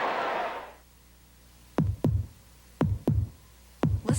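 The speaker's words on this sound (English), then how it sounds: "Listen to the heartbeat." Heartbeat sound effect used in a 1986 NFL football broadcast, Giants at Eagles, Veterans Stadium in Philadelphia: three evenly spaced double thumps, lub-dub, about one second apart, loud and alone after a brief burst of crowd noise.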